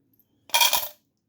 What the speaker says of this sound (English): I'm just putting some coins in there from my change purse.